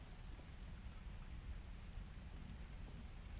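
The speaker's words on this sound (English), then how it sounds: "We can hear it's starting to rain a little bit." Light rain begins to fall around an outdoor bugout shelter in a winter setting, a soft, steady patter of scattered drops forming a continuous wash with no voices.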